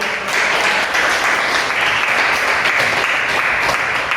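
A classroom of students claps steadily for several seconds, a dense, even patter of applause from many hands in a room.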